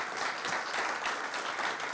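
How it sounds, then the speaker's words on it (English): A round of applause from the crowd at the Doubleday Field ribbon-cutting ceremony, a short, even burst of many hands clapping, moderately distant and without speech. "Let's give him a round of applause"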